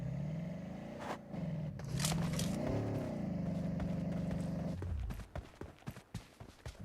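A car driving in the game PUBG, a steady engine drone that rises and falls with speed, then cuts out into scattered clicks and clunks toward the end.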